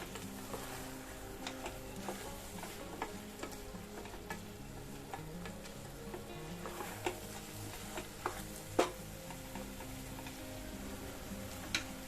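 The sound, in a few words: stirring spices into a pot of rice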